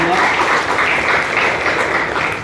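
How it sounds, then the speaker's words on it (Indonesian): Dense, steady applause from a school audience for a student council candidate, continuous and fairly loud throughout the short stretch. "Oke, tepuk tangan kepada nomor urut"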